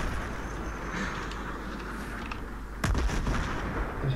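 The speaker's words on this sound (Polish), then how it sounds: "ktoś do mnie strzela" Battlefield 3 hardcore multiplayer combat: a steady wash of distant battle noise, then a sudden loud, close gunshot blast partway through, followed by continued rumbling gunfire.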